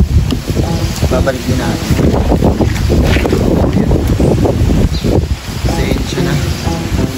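Strong wind in Tagaytay, Philippines, buffets the microphone with loud, continuous roaring gusts throughout, while a person speaks briefly under the noise.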